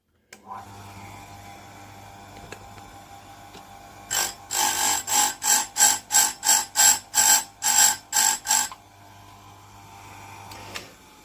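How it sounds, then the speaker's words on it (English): A bench grinding wheel sharpens a single chainsaw chain tooth in about ten short, evenly spaced bursts of high, whining grinding over a low steady motor hum, with quieter hum before and after. "So we'll grind this little section, this tooth here."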